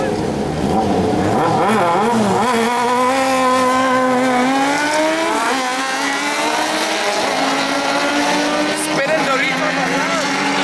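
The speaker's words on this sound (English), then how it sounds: "So it's a 10-lap race, a sprint up to the top" Race cars in a 10-lap sprint race at a 2015 CMRC Group 3 event: loud engine roar throughout, with pitch rising and falling as the cars accelerate and shift, and talk over the top.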